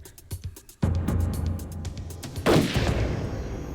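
Gunfire in a crime documentary scene, as an FBI suspect shoots at a stop sign: a sudden loud onset followed by sustained rumbling reports and a second burst later, with no talk.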